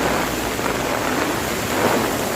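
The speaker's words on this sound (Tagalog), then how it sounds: "Dahil sa walang tigil na pagbuhos ng ulan" Heavy rain from Typhoon Maring pours without letup over Baguio in a dense, steady roar, with low rumbling mixed into the wash of water.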